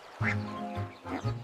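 Quacks rendered for a nursery rhyme about five little ducks, three nasal calls in quick succession, close and clear, with a tonal, sung quality that suggests a voice imitating a duck.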